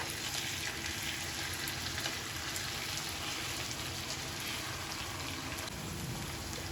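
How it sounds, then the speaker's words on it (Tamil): Black pomfret fish frying in a pan, a dense steady sizzle with crackling spatter that holds at an even level for the whole stretch, with no voices. "சூப்பராக மீன் வந்து நல்லா ஃப்ரை ஆகிடுச்சு"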